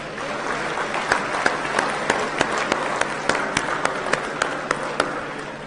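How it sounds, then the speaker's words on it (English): Sustained crowd applause from an assembled audience honouring fathers at a live-streamed gathering, dense steady clapping with a few sharper individual claps standing out, fairly loud and without talk over it. "I think it's proper and it's in place to give fathers a round of applause."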